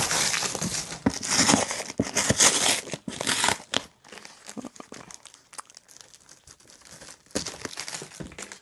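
Close crinkling and tearing of plastic wrapping on a yarn package, loud rustly bursts for a few seconds, then quieter intermittent crackles and a final rustle.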